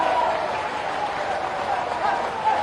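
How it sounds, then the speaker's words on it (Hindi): Steady crowd applause at a political rally in Hatpipliya, Dewas district, Madhya Pradesh, a dense continuous clapping wash that holds at even loudness throughout, with some voices mixed in. "वहां से यहां से तालियों की गड़गड़ाहट है।"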